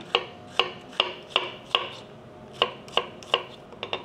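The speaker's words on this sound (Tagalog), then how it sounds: "Nagamit tayo ng 2 sibuyas. Then i-slicein lang natin ng pahaba." A kitchen knife slices two onions lengthwise on a cutting board. About ten crisp, evenly spaced chops land close and clear, with no talking.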